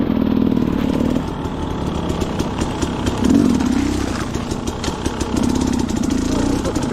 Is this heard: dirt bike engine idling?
yes